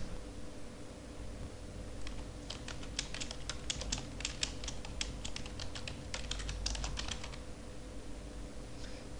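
Computer keyboard typing while code is entered, a rapid run of light clicks that starts after about two seconds and continues for several seconds over a steady low room hum, with no talk.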